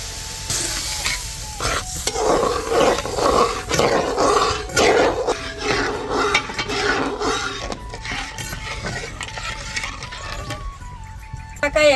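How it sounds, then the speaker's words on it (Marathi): Masala paste of ground spices with turmeric sautés in a pan, sizzling loudly with repeated scraping stirs, close and continuous, with a voice speaking over it. "असा मसाला परतू घेते"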